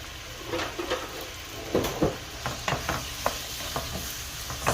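Chopped potatoes frying in oil for Filipino picadillo, giving a soft steady sizzle with a run of clinking stirs and scrapes against the pan, fairly close and with no talk.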